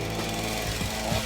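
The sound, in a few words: chainsaw cutting into poplar wood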